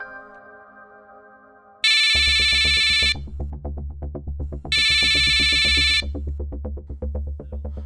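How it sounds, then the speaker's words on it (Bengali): A telephone rings after a number is dialled: two long, loud electronic ring bursts over a steady pulsing ringback tone, close and clear, with no talking. "রিং হচ্ছে।"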